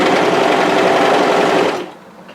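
A sewing machine runs steadily, stitching balaclava hood fabric with a fast, even whir up close, then stops near the end.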